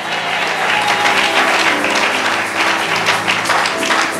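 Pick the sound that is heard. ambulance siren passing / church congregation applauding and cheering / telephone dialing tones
church congregation applauding and cheering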